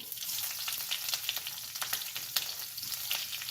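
Green chilies and curry leaves frying in hot oil, with a busy crackling sizzle full of quick sharp pops that stays close and fairly soft from start to finish, no voices present.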